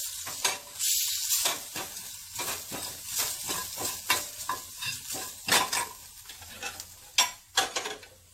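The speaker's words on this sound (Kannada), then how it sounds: "ಒಗ್ಗರಣೆ ರೆಡಿ ಆಗಿದೆ. ಇದನ್ನು ಸ್ವಲ್ಪ ಹೀಗೆ ಒತ್ಕೊಳ್ಳೋಣ." Garlic tempering crackles and sizzles in hot oil in a pan for a raw mango rasam, with repeated scraping and pressing strokes from a spoon, close and fairly quiet.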